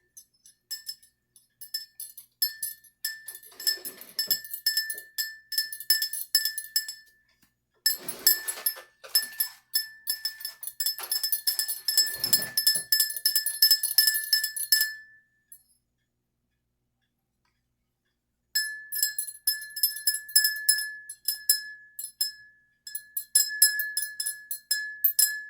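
A spoon stirs liquid in drinking glasses for a science experiment: quick, light glassy clinks in fast rhythmic bursts, stopping briefly twice between rounds of stirring.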